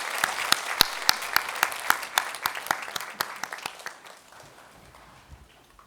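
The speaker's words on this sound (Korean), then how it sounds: "다시 한번 축하와 격려의 박수 부탁드립니다." A church congregation at a Sunday service applauds in celebration of newly appointed small-group leaders, a steady patter of clapping with sharp individual claps standing out, then thinning and fading away over several seconds.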